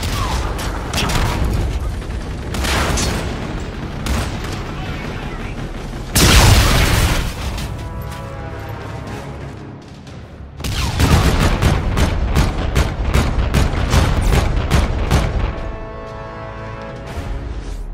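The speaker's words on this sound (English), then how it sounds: "Enemy Trinity rocket in use." Trinity rocket strikes in Call of Duty Infinite Warfare: a loud, continuous barrage of booming explosions and crackling impacts, with a heavy blast midway and dense rapid detonations afterward, close and overwhelming.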